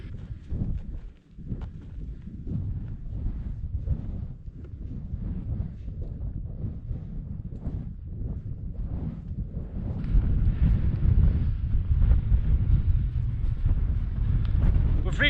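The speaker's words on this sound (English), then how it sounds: "But that means it's a wee bit windy." Strong, gusty wind buffets the microphone on a freezing winter hilltop near Meikle Millyea, a continuous loud roar that swells and intensifies partway through.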